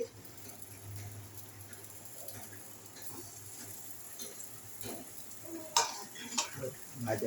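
Chicken nuggets fry in a pan with a soft, steady sizzle, joined by occasional stirring and a few light clinks of cookware toward the end.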